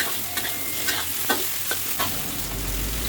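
A spatula scrapes and stirs carrots and winter melon in a hot frying pan, with a few distinct scraping strokes over a steady background sizzle.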